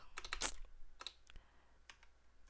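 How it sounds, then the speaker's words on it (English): Quick bursts of typing on a computer keyboard while lyrics are entered into singing-synthesis software, several clustered clicks then sparse single keystrokes, close and fairly quiet with no talking. "personally I prefer to just straight type in the lyrics"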